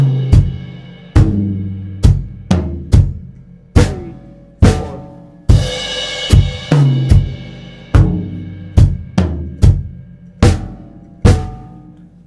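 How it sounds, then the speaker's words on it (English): A drum set played at a slow tempo, with crash cymbal, bass drum, hi-hat, toms and snare struck one at a time in an evenly spaced pattern. Each hit is close and loud, with ringing decay between strikes. "you're going to start with a crash, bass drum, and a hi-hat"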